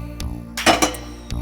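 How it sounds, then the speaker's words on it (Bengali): A utensil scrapes and clinks against a metal cooking pot while prawn curry is stirred, giving a few sharp knocks in quick succession, close and fairly loud. "একটু নাড়িয়ে দেব"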